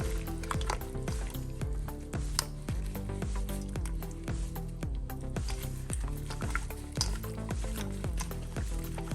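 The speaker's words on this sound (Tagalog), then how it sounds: "Ayan, meron na tayong pinainit na oil or mantika. And then, i-deep fry natin." Chicken wings deep frying in hot oil give off a steady crackling sizzle with dense popping bursts, close and continuous throughout, with no voices.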